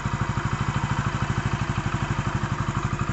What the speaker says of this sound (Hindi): फाइनली ये गाड़ी स्टार्ट हो चुकी है। इस गाड़ी का आवाज़ भी आप सुन सकते हैं कि बहुत ही अच्छी आवाज़ है